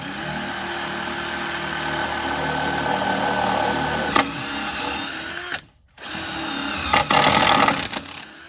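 A power drill bores holes in a boat hull to mount an outboard bracket for a 115HP Mercury motor, running in a steady whine that briefly cuts out, then restarts with a few clicks.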